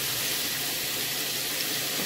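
Carrots frying in a pan give a steady, dense sizzle that holds at an even level throughout, close and continuous, with no talking over it.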